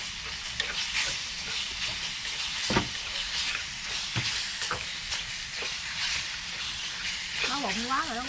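Meat sizzles and fries in a very hot clay pot with garlic and shallots, a steady crackling hiss with brief stirring scrapes, while a person talks near the end.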